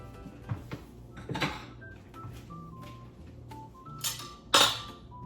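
Dishes and a bowl clink and knock during serving of a home lunch of stew, bread, vegetables and shrimp, with a few scattered close taps and one sharper clatter near the end over quiet room tone.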